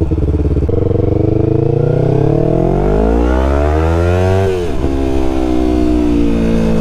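A 2019 Yamaha R3 motorcycle fitted with an M4 carbon fiber full exhaust revs hard up through the range, its loud raspy note climbing steadily before a sharp drop and settling back to a throaty idle, close by.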